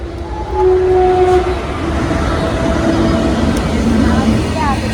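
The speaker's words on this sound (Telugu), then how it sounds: "సో ట్రైన్ అయితే వచ్చేసింది." A train rumbles steadily past a closed level crossing gate, its horn sounding in long tones over the continuous clatter of the wagons, loud and close.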